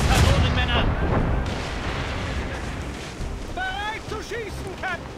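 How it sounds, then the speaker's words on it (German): Ship cannons fire in the naval-battle video game Assassin's Creed Rogue, a loud booming blast at the start that rumbles and fades, followed by game dialogue and voices over the lingering sea-battle ambience. "An die Kanonenmänner!"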